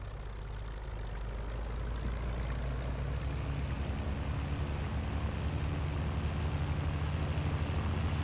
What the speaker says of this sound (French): On va conduire les avions, ça va être une catastrophe.